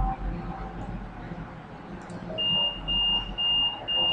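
A mobile phone alarm gives a series of short, steady, fairly loud beeps in a regular rhythm over a room hum.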